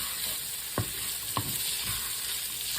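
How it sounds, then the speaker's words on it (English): Bacon frying in a pan, a steady crackling sizzle broken by a few distinct knocks of a utensil, fairly quiet and with no voices. "I'm going to cook the bacon until it's kind of crispy."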